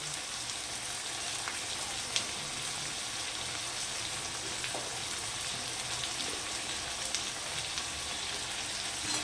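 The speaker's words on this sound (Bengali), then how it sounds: "এবার মশলাটাকে আমি ভালো করে কষিয়ে নেব।" Spice paste of turmeric and chili powder frying in a pan for an egg curry, a steady hissing sizzle with soft crackles and pops throughout.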